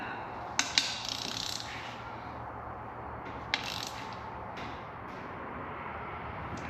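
A torque wrench ratchets on a 2013-2014 Ford F-150 3.5 EcoBoost engine during a build: a few sharp mechanical clicks near the start and another single click later, over a low steady background hum.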